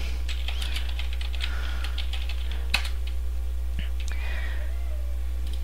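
Keys clatter in quick irregular bursts on a computer keyboard while a folder is made on a Linux system, soft and close over a steady low electrical hum, with one sharper keystroke standing out midway.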